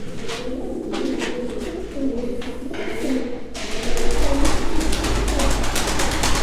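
Mardin tumbler pigeons coo steadily inside their loft, a layered chorus of low throaty calls that grows slightly louder toward the end, with faint rustling and no speech.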